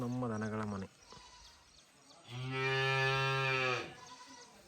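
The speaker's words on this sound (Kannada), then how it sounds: "ಇದು ನಮ್ಮ ದನಗಳ ಮನೆ." Cattle in a cattle shed at a family home low twice, first a short call, then after a quiet gap a longer, louder, drawn-out moo, close by.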